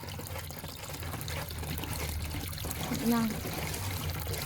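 Water pours and trickles into a mixture for homemade dishwashing liquid, a steady low splashing running under a person talking nearby.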